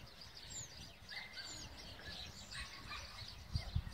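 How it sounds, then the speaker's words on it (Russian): Starlings call from a neighbouring garden plot in southern Russia, thin scattered chirps and whistles at a distance over faint outdoor background, with a couple of soft thumps near the end. "а там скворцы."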